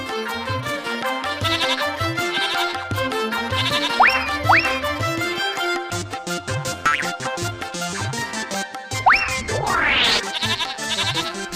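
A goat bleats repeatedly over a busy bed of music and springy cartoon sound effects, its cries loud and close, wavering and rising, with several bursts spread across the stretch.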